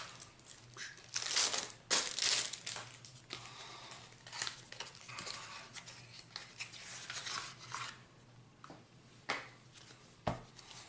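Plastic wrapper being torn and peeled off a pack of Relic Knights faction cards, close crinkling, rubbing and scratchy rasping in irregular bursts, with a few sharper snaps, fairly quiet.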